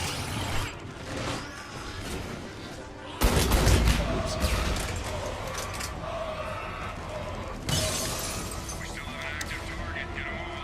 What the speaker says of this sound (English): Two waves or two whatever shots. 2 rounds of shots.